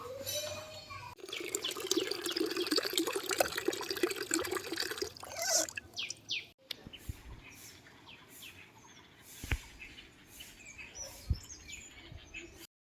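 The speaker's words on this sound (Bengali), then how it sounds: "এখন যাচ্ছি ছাদে, গাছে জল দেবো" Water splashes and patters onto potted plants on a rooftop for several seconds, then stops. Birds chirp around it, with a faint murmur of a voice in the background.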